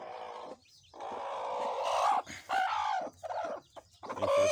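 A hen clucks loudly and close by among newly hatched brooding chicks, with bursts of calling and short pauses between them.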